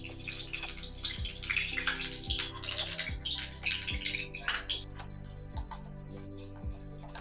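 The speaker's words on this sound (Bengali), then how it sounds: "মাছের ডিমের বড়া তৈরি করার জন্য আমি 100 গ্রাম সর্ষের তেল দিয়ে দিচ্ছি।" About 100 grams of mustard oil pours into a pan for fish-roe fritters, a steady close trickling hiss that rises and falls over several seconds, with a faint, regular low ticking repeating underneath and no voices.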